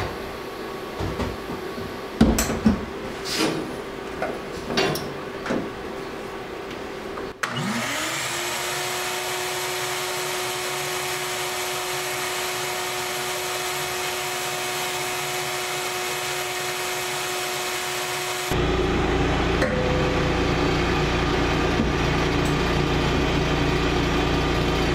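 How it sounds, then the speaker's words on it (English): Sandblasting a knife handle part starts with a few rustles and knocks, then a compressed-air blaster kicks in with a loud steady hiss and whine, growing rougher and louder for the last stretch. "Now I can sandblast it without having to worry about hurting any of the other surface finishes."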